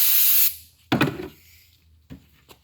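A short, loud hiss of brake cleaner sprayed onto an engine head, followed by a few clunks and knocks of handling on the metal, with no talk.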